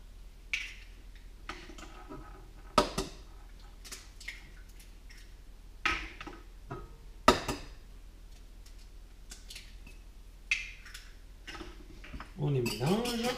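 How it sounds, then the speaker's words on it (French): Eggs cracked into a mixing bowl while preparing a crustless bacon quiche, a series of sharp taps and clicks against the bowl scattered through the passage, close and crisp, ending in a wet sloshing spill. "vous cassez déjà les œufs dans le saladier"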